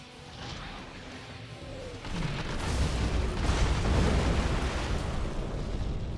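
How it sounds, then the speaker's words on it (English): Artillery strike in Command & Conquer Generals Zero Hour on the Snowy Drought map, a low rumbling barrage of booms that swells after a quieter start and holds loud and dense to the end. "Here comes the artillery now from Habibi"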